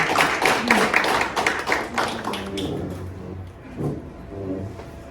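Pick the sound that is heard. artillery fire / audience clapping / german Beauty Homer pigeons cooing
audience clapping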